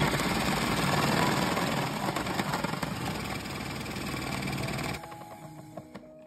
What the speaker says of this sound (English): I now use the food processor to shred the carrot